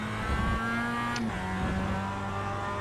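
Mazda MX-5 Cup race car in the iRacing sim at Lime Rock Park, its engine a loud, steady in-car drone that drops in pitch briefly partway through as the throttle is eased, then carries on.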